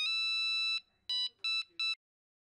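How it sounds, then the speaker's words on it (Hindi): A phone rings late at night with electronic tones: one long tone, then three short bursts in a steady rhythm, loud and close, with no talk over it. "हाँ नटू काका, इतनी रात को फोन क्यों किया?"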